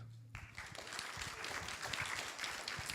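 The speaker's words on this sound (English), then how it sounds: "please give a round of applause" Applause at a university science competition presentation, a steady dense patter of many hands clapping through the whole stretch, moderately distant.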